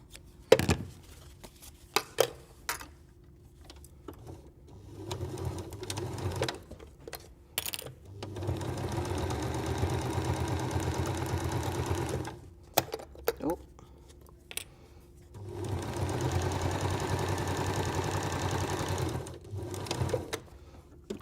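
Sewing machine stitching a short seam on a reusable oilcloth sandwich bag, two steady bursts of mechanical whirring separated by pauses with clicks and handling noises, and a voice talking in between.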